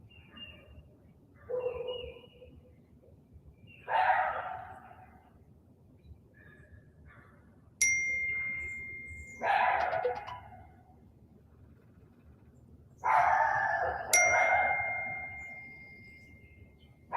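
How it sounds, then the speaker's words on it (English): A small meditation bell ends a calm breathwork session, struck twice several seconds apart, each strike ringing out clearly and fading slowly between soft breathing-like sounds in a quiet room. "I'll use my bell to bring you back."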